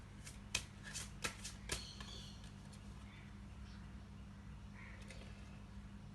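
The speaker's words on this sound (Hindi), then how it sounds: "मैं कार्ड को शफल करती हूँ" A deck of tarot cards is shuffled close by, with a few quick riffling flutters and soft snaps in the first two seconds, then faint quiet room tone.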